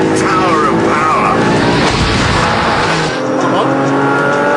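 An Audi R8 with a V8 engine is driven hard on a test track, its loud engine roar mixing with screeching tyre squeal. The sound is continuous and close, with a voice talking over it.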